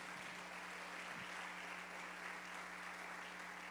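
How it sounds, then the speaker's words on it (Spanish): Congregation applause at a Spanish-language church service, a steady dense wash of clapping with a low hum underneath, sustained and even throughout. "Dale un aplauso a Dios, vamos, dáselo fuerte"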